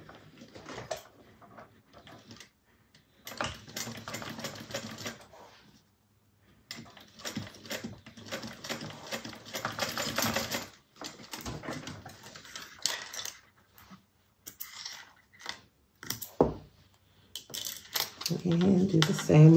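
Bursts of a sewing machine top stitching a bag seam on a Trendsetter Satchel, stitching in rapid mechanical runs separated by pauses, with someone talking at times over and between the runs.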